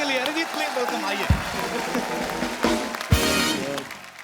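Audience applause welcoming a singer on The Kapil Sharma Show stage, a dense clapping wash over steady stage music with a couple of sharp thumps.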